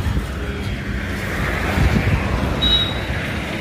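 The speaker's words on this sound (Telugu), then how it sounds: "బండికి వాటర్ కొడతాం." Water sprayed onto a motorbike before a road trip: a steady, close hiss and rush of spray runs throughout, swelling slightly midway, with no talk.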